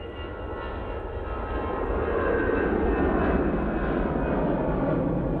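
A Vueling jet airliner bound for Barcelona rolls for takeoff with a steady engine roar that swells in loudness and then holds strong, heard alone without voices.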